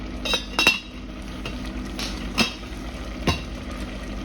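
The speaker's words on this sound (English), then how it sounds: "this is also a good time to stir it. So you do want to stir it." A spoon stirs a pot of vegan meal simmering in water, with no oil or spices, giving a few scattered clinks and scrapes against the pot over soft background noise.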